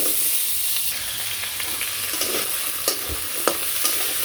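Potato pieces frying in oil in a village kitchen, a steady close sizzle and hiss broken by a few sharp crackles and pops near the end.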